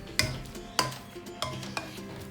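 Potatoes mashed with butter in a bowl, four distinct knocks of a utensil against the bowl at a steady pace, with soft squishing between them.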